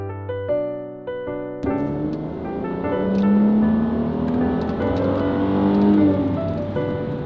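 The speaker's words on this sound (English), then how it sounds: "This car sounds good, and it's good on gas too." A Mercedes AMG car engine revs up, its pitch rising and swelling loudly before easing, with a rumbling idle at the start.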